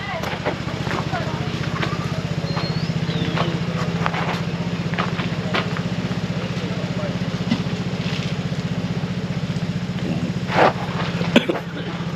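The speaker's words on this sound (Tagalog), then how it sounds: "Maingay lang yung aking motor dahil lang charge tayo ng drone" A Vespa S125 scooter engine idles steadily and noisily at a campsite while it charges a drone, a constant close drone with faint scattered background sounds.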